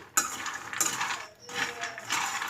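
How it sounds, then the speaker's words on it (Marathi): Peanuts roasting in a pan are stirred with a spoon, producing about four bursts of rattling, scraping clatter as the nuts shift against the metal. "शेंगदाणे भाजत असताना सतत आपल्याला असं हलवून घ्यायचं आहे"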